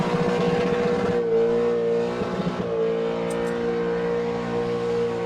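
An Open Class burnout car holds a loud, sustained engine roar at high revs with tyres spinning, a steady pitched drone with slight dips, close up.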